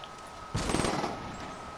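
Shotgun fire in Call of Duty Black Ops 3, a single loud blast at about half a second that trails off into a short rumble.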